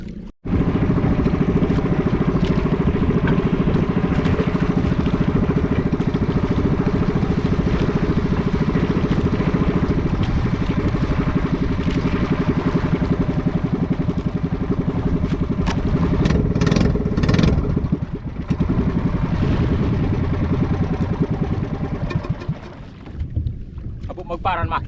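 A boat engine drones loudly and steadily from start to finish, with rumbling wind noise on top, before cutting off sharply at the very end.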